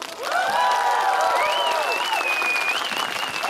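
Clapping and cheering from a crowd welcoming an election candidate at a campaign event, rising quickly and holding steady, with tonal whistling or a voice rising over the applause.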